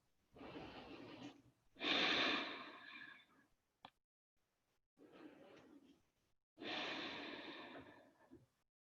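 Slow, deep breaths during a live yoga class for focus, drawn in and released in long phases with pauses between, close and soft with no talking over them.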